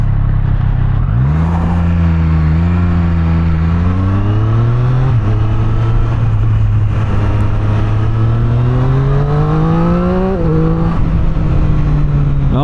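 A Triumph Street Triple 765 R motorcycle engine revs close and loud, its pitch climbing in several surges and dipping between gear changes for about twelve seconds, with no talking.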